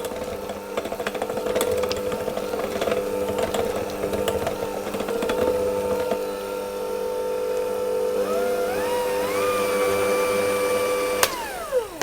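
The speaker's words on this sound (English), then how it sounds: "you can do this with a hand mixer, but only on slow until it's all combined" Electric hand mixer running on slow, beating flour into cake batter for a Nantes cake, a steady motor whine that holds throughout, with a rising pitch sweep near the end before it cuts off.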